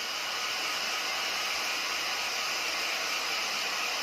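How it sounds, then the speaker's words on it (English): A hair dryer blows steadily to dry an old guitar after it has been wiped down, a constant, fairly loud rushing whir with no talking. "Then hair blower, make it dry."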